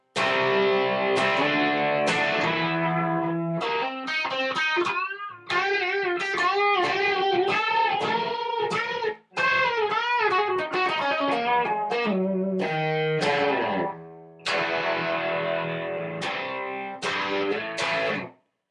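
A Squier Telecaster Custom through an MXR distortion pedal and Peavey Vypyr amp plays chords and riffs loudly, heavily distorted, sustained and crunchy with brief pauses between phrases.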